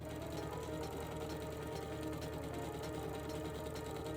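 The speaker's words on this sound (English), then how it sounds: "This then gets folded in half and sewn along this edge here." Sewing machine running steadily for about four seconds as green fabric, folded in half, is stitched along one edge; a continuous close mechanical whir with a fine rapid needle rhythm and no talking.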